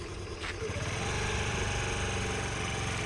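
Scooter engine running steadily after starting during a first-day riding lesson, a continuous near buzzing drone at constant level with no break, no talk over it.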